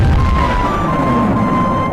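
Cannon fire in the colonial war game Rise of Liberty, a loud rumbling boom that fills the clip with a sustained low roar and a faint tonal ring above it.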